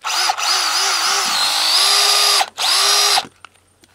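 Small 18V cordless battery-powered mini chainsaw running alone at close range, a loud steady motor whine that cuts out briefly, revs up again, then stops.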